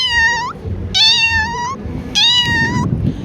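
A man imitates an ordinary house cat's meow with his voice: three separate drawn-out meows, each about half a second long, loud and close, with short pauses between them.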